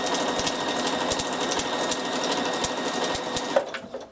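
A sewing machine runs steadily, stitching through aluminium can material with a fast even mechanical whir and rhythmic needle thumps, loud and close, then stopping abruptly near the end.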